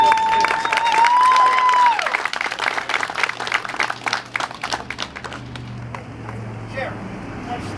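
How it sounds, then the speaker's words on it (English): An audience claps in a round of applause for law enforcement at a Westmoreland County police motorcycle unveiling, a steady wash of clapping that thins out over several seconds, with a brief whistle-like tone near the start. "So, a round of applause for our law enforcement."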